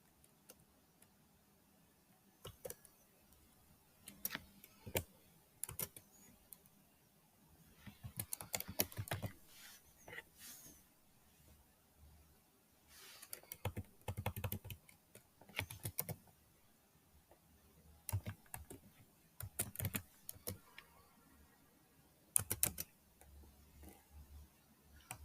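An address typed into an online form on a computer keyboard, quiet bursts of rapid key clicks separated by short pauses, close and alone.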